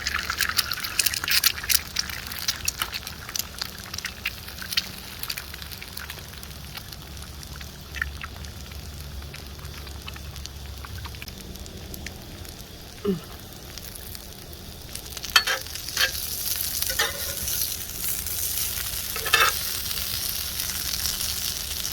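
Potatoes browning in a pan over an open campfire, a soft steady sizzle with fire crackle throughout, occasional sharper pops and splashes, no talking.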